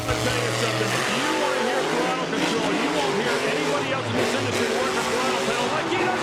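A Monster Jam monster truck, a Grave Digger, throttles up hard, its engine roaring loudly and continuously over dense arena crowd noise, with the revving pitch rising and falling.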